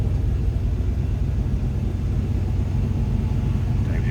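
A 1984 Chevrolet K20 4x4 pickup with a new muffler idling steadily, a smooth, low, continuous engine rumble heard up close with no talk.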